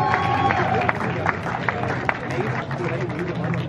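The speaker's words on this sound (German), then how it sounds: "Applaus für Holger!" A crowd at a Halloween haunted-labyrinth event applauds, scattered claps and crowd noise under and around ongoing talk, fairly loud and close throughout.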